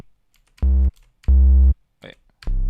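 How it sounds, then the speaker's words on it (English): Fat 808-style bass synth patch built in Serum, mostly stock settings with no LFOs, playing three long, loud, booming sustained notes separated by short gaps with faint clicks between them. "Now it just sounds like a fat 808."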